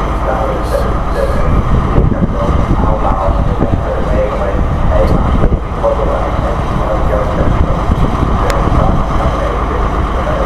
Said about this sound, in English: That's a coal train, possibly from Ferrybridge or somewhere.